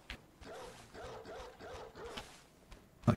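A monster dog in the game Bloodborne barks and growls at a distance, with scuffling game noise underneath and a sharp hit at the end.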